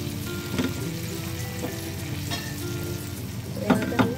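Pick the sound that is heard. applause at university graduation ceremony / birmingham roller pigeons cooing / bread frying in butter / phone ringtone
bread frying in butter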